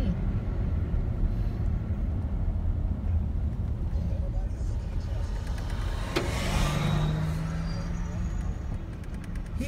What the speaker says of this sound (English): I'm going to pull over and let it go by me.